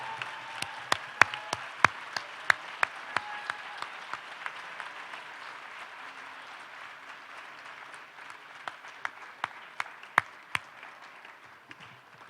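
A small audience at a university raft debate claps for the debaters, the applause soft and thin with sharp individual claps standing out near the microphone and gradually tapering off.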